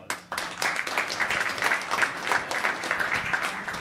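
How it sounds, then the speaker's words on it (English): Town council meeting attendees burst into a full round of applause right after the Pledge of Allegiance, a dense, steady wash of many hands clapping that holds for several seconds without a voice over it. "Round of applause."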